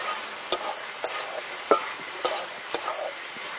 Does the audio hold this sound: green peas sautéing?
yes